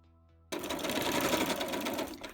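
A sewing machine runs steadily as it stitches the seam of a kimono belt, starting abruptly after a brief quiet moment and continuing as a close, even, fast-rhythm whir to the end.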